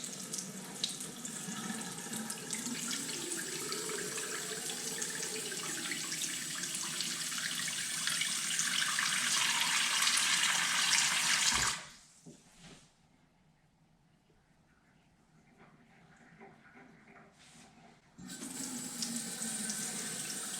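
Tap water runs steadily into a bathroom sink after a clog was treated with Green Gobbler, a loud continuous rush that briefly drops to a quiet trickle near the end before the full flow resumes.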